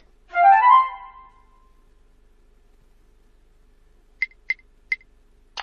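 In the Dora the Explorer game Dora's Big Birthday Adventure, a flute plays a brief, clear melodic phrase. Silence follows, then a few short clicks.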